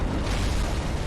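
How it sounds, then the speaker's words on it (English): An explosion in the video game Bloodborne, a deep, dense rumbling boom that stays loud and even across a very short moment. No voices can be heard. "Explosion."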